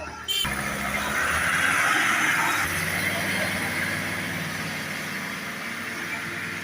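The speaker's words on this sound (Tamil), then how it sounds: "ஒரு வாகனத்தை ஓடியும் பார்ப்போம்" A used car for sale in Jaffna, Sri Lanka, engine running and being driven: a steady, fairly quiet engine hum and road noise that continues throughout, with someone talking over it.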